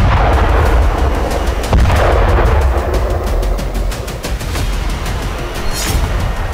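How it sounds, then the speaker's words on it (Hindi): Heavy explosions from an IDF bombardment demolishing buildings in southern Lebanon, a loud continuous roar of blasts and rumbling debris with sharp cracks throughout, no voices. "यह वीडियो भी दक्षिणी लेबनान का है, जहां आईडीएफ ने बारूद बरसाकर 8 से ज्यादा इमारतें जमींदोज कर दी।"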